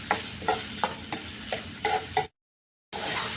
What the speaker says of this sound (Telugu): ఇవన్నీ ఫ్రై చేసుకోవాలి కొద్దిగా.